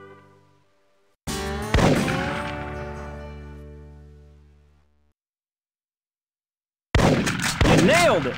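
Gunfire in the Big Buck Hunter Pro Open Season arcade hunting game: a loud sharp blast with a long ringing, fading tail, then a pause and a voice talking.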